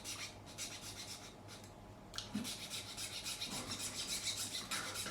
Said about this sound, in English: I'm just going to take the same flat file, and I'm going to do this by hand completely.